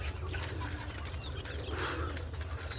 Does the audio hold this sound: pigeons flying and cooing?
yes